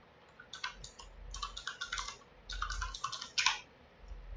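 Short runs of keystrokes on a computer keyboard while entering an nslookup command, three or four quick bursts of crisp clicks over a low steady room hum, close but fairly quiet.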